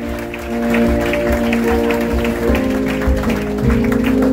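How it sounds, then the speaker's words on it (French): Congregation applause during a Sunday church service, a sustained crackle of many hands clapping over steady held musical tones and soft low thumps. "Toujours sous vos applaudissements."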